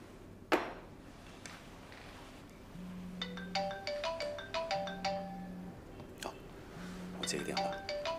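A phone ringtone sounds over a steady background hum: a repeating melodic pattern of bright tones, each phrase paired with a low buzzing pulse, playing three times at moderate volume with a brief sharp knock early on.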